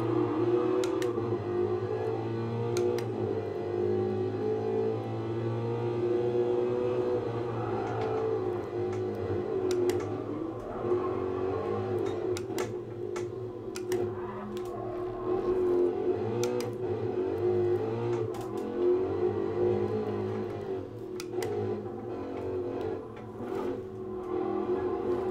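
A race car engine drones steadily in Gran Turismo Sport as it is driven with a Thrustmaster T-GT wheel, a continuous mid-level hum with slight rises in pitch and some faint clicks, without voices.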